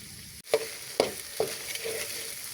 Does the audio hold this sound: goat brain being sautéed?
yes